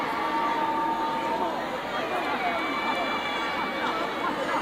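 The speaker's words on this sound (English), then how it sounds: "That's why you heard the cheers just now." Crowd at a schoolboy football match noisily cheering and chattering throughout, a steady loud roar with bursts of whistles and shouts.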